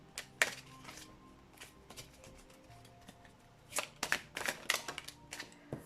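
Tarot cards are drawn from a deck, giving soft papery flicks and snaps in short clusters, close but quiet, with a busier burst of card handling toward the end and no talking.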